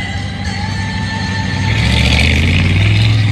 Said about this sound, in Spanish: suena a motor gigante